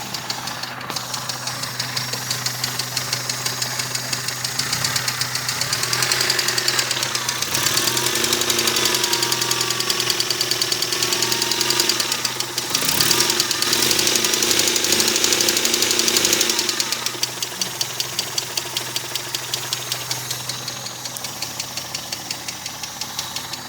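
A Mazda 626 GE engine with a knock in the first cylinder runs steadily, a fast rhythmic metallic tapping over a low idle hum; revs rise briefly in the middle, then settle back. No one speaks.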